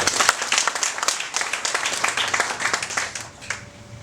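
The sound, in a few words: audience applause at a church farewell ceremony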